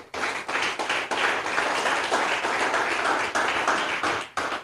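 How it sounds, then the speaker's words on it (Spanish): A church congregation claps steadily and energetically, dense overlapping applause in a large room, loud and continuous with a brief dip near the end. "Vamos, aplauda al Señor si lo va a hacer"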